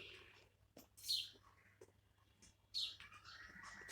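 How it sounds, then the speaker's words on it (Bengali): Birds chirp outdoors on a foggy morning, with two bright, short calls standing out over faint quieter tweets and a low background hum, fairly distant and soft. "পাখিগুলো সুন্দর ডাকে প্রত্যেকটা দিন"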